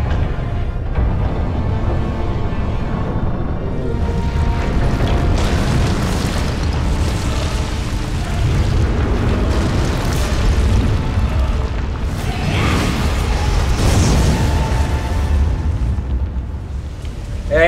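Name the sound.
volcanic eruption and explosions in the video game Tomb Raider Underworld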